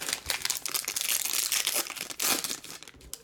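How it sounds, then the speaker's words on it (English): A 2018 Panini Prizm card pack wrapper is pinched and pulled open. The foil gives a loud, close, continuous crinkling and tearing rustle for about three seconds, with no speech. "You pinch it, you pull it, and it goes straight down."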